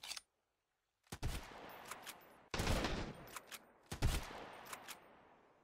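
Three separate volleys of Sunkenland gunfire, each a sharp loud shot followed by a rattling tail and quick follow-up pops, separated by short pauses, the first after a brief silence.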